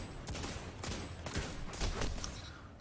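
Hand cannon fire in Destiny 2 rings out as a handful of sharp shots about half a second apart, heard over steady game ambience.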